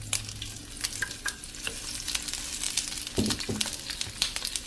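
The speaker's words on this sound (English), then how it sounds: "With our olive oil hot, we're going to add our asparagus." Asparagus drops into hot olive oil in a pan and sizzles loudly and steadily up close, with scraping and clinks from a utensil moving the spears.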